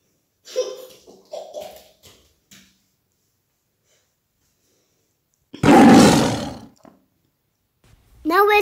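A tiger in an augmented reality app gives one loud, close roar lasting about a second, preceded by scattered speech and followed by another burst of sound.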